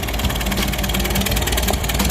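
An old Matthew Harris 55 farm tractor idles steadily after starting, a continuous mid-pitched engine rumble with a slight knocking pulse, close and fairly loud throughout.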